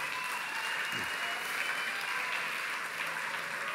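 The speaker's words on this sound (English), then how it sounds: "you're allowed to clap about that." Steady audience clapping fills a youth church gathering, a dense even wash of applause at moderate distance with a brief voice-like sound near the start.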